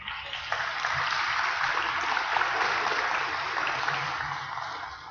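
Applause from an audience at a NASA Space Apps Challenge hackathon finale: a dense, continuous wash of clapping at even loudness, sounding somewhat muffled and roomy, with no talking.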